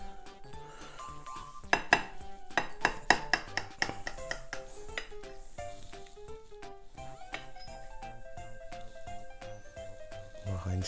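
Cutlery clinks and scrapes against a plate while slicing through a bacon-wrapped meatloaf stuffed with peppers and mozzarella, with several sharp close taps early on and then steadier, quieter scraping.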